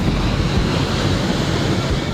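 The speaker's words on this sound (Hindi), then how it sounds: "कुएं का पानी मचल रहा है, हिलोरे मार रहा है।" Water churning and sloshing inside a well near the Bharatmala highway in Morbi, a loud, dense, continuous rushing wash that never lets up across the whole stretch, with no voices.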